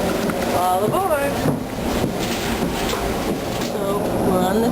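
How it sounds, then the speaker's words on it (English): Inside a Middleborough commuter train heading to Boston, the carriage gives a steady loud rumble with wind noise, and people talk over it. "So we're on the train, on the way to Boston."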